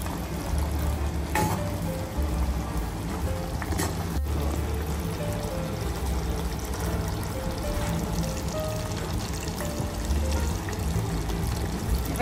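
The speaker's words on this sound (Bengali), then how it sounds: "নেড়ে নিলাম কসুরি মেথি দেওয়ার পরে" Handi chicken with kasuri methi is stirred in a pot, sending a continuous sizzle with soft scraping and light clinks of a spoon throughout, with no talking.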